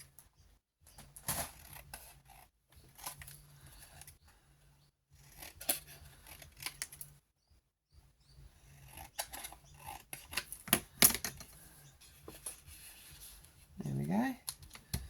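Scissors snipping through paper while trimming a junk journal folio, with quiet bursts of cutting and rustling separated by pauses and a soft voice speaking in between.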